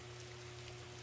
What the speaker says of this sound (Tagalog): Umuulan eh, sorry.